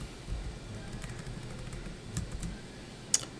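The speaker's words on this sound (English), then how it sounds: "Let's just type it in." Typing on a computer keyboard while entering spreadsheet values, a soft run of close key clicks with a few sharper taps near the end, no talking.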